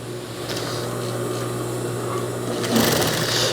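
A sewing machine runs steadily while stitching a zip into a Saudi thobe, its motor a continuous close whir with a faint rhythmic needle patter that grows slightly louder near the end.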